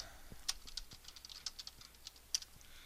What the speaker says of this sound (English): give me just a second to finish typing this out here